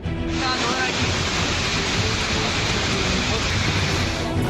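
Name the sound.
heavy rain and flooding water in Jaipur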